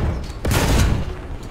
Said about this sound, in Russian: Еще взрыв боекомплекта